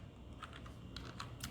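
Faint computer keyboard typing while writing C code, a few soft scattered keystrokes in quick clusters over low background noise.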